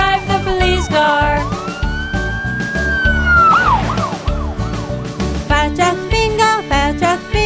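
A wailing police car siren sweeps up and down over bouncy children's music, the siren rising and falling across the middle of the clip.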